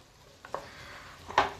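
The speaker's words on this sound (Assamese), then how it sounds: "লো ফ্লেমত মই এইখিনি অলপ সময় ফ্ৰাই কৰিম লৰাই থাকিম" Rice frying on a low flame is stirred in a pan, with a faint sizzle broken by two quick scraping strokes of the spoon, the second louder and closer.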